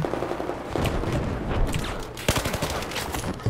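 Rapid gunfire in the Battlefield 4 video game, dense overlapping bursts and cracks of a firefight that keep going throughout, with heavier shots near the end and no clear talk.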